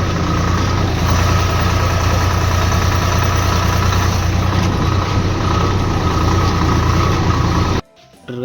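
A tractor engine idles loudly and steadily on a farm, a dense low rumble holding constant for about eight seconds before cutting off abruptly near the end.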